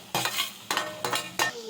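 Spinach and tomato curry stirred in a pan, five quick scraping strokes of a spoon against the metal in a steady rhythm, close and clear over a faint sizzle, nobody speaking.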